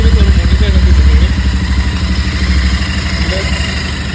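A Royal Enfield GT650 motorcycle idles close by with a steady, low, throbbing exhaust beat that holds evenly throughout, loud and continuous with no revving.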